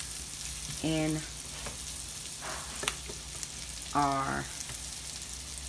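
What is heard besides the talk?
sun-dried tomatoes sautéing in oil and butter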